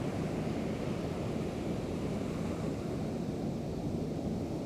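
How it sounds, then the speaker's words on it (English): Ocean waves wash in as a constant, broad rumbling surf, steady and moderately loud, with no clear breaks and no voices over it. "this ocean sound is so soothing."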